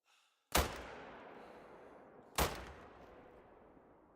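Two sharp, loud rifle shots about two seconds apart, each with a long fading echo, from the hunting video game TheHunter: Call of the Wild.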